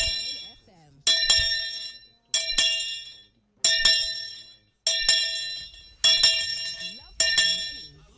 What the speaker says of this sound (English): The bell has gone out, and it went out louder than Big Ben in London.